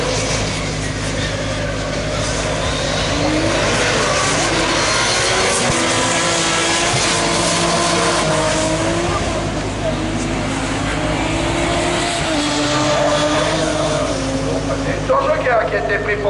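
Rallycross race cars, including a Citroën C3, racing at a French championship round at Lohéac in 2023, a continuous loud engine roar with shifting pitch and a commentator talking over it.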